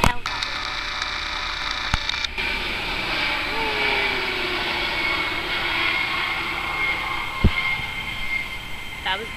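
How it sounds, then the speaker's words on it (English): A helicopter passes overhead outdoors, its engine a steady loud drone with a rumbling hum throughout, while a person talks underneath. "It was a helicopter and it just flew over there into the sun."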